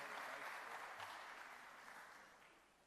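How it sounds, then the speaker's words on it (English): Faint, diffuse applause from an audience at an energy program session fades gradually over a few seconds, with no voices over it. "Please, a big round of applause, Mrs."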